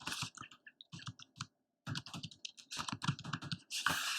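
Computer keyboard keys tapped while entering HTML code, quick bursts of crisp close clicks in uneven rhythm with a brief pause midway, fairly quiet and with no talking.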